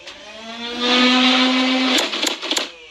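A fully automatic Nerf blaster's flywheel motors spin up into a loud, steady, rising electric whine. About two seconds in, several quick sharp clacks follow as the mechanism cycles.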